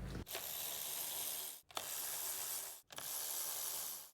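A ratchet wrench removes the 10mm ignition coil bolts on a Chevy Traverse, making three fast, continuous ratcheting bursts, each about 1.3 seconds long with brief pauses between them. The sound is close and steady, and no one speaks.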